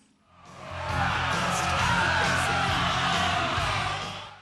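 A possessed crowd from the film Black Roses yells and bellows as it rushes, a loud, sustained roar of many voices swelling in and holding steady before fading slightly.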